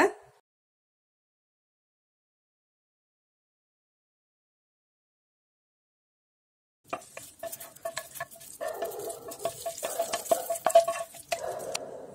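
Ground kara chutney tempered in hot oil in a pan for kara dosai, with stirring and utensil clatter. Scraping and clinking start after a long silence and keep going steadily and close up to the end.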